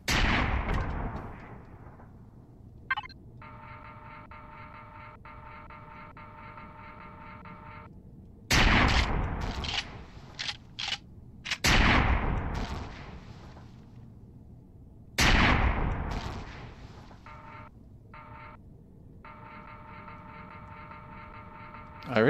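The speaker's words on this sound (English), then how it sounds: "Artillery turret." Artillery turret in the video game Empyrion Galactic Survival fires heavy booming shots, several spaced blasts with long decaying tails over a steady electronic hum, loud and close.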